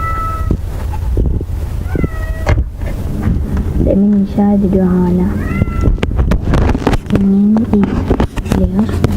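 Several cats in the Minecraft video game meow repeatedly at varying pitches, close and clear, over wind and background noise while someone talks intermittently.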